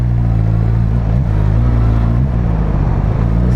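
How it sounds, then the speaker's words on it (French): Suzuki Katana four-cylinder motorcycle engine accelerating: a loud, close, smooth hum whose pitch rises and dips slightly as the throttle changes. "le 4 cylindres hyper souple, ça reprend très bas, ça ne vibre pas"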